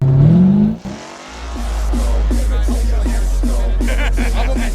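A 1000-horsepower Hellcat at a drag race builds from a deep idle into a loud, sustained engine roar with a rising pitch, close and constant, preceded by a brief low voice.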